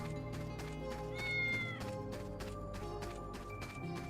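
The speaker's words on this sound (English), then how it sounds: "That's a cat." Game cat in Final Fantasy XIV gives a couple of brief high meows over constant game music and background ambience, fairly faint and close.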